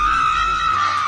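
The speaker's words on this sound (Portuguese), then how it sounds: "Seu cachorro late? Não, ele grita." A dog screams instead of barking, giving one loud, continuous, high-pitched wail that holds steady for about a second.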